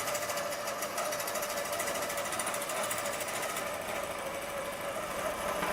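A Butler Robotics longarm quilting machine stitches in a fast, steady mechanical whir with a constant rattling hum, loud and close, with no voices.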